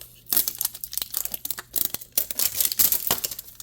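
Mystery toy capsule packaging ripped open by hand in a run of close, loud tearing and crinkling bursts, with short pauses between pulls and no talking.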